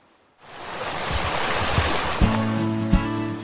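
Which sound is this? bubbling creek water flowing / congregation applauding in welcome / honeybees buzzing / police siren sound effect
bubbling creek water flowing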